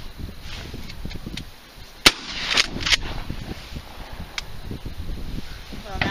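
Shotgun blast during opening-weekend duck hunting, a single sharp crack fairly close by, with people talking outdoors before and after it.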